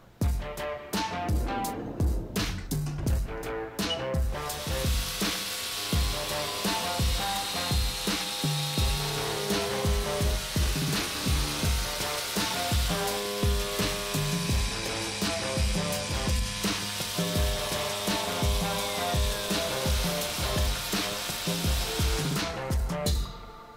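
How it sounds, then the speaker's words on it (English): A Haas CNC machine cuts a part, a loud continuous metallic machining whine with layered tonal cutting noise and rapid repeated tool strikes, steady from start to finish with no talking. "Now that we're ready, let's cut our part."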